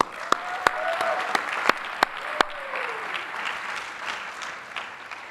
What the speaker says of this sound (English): That is no small feat and deserves a round of applause.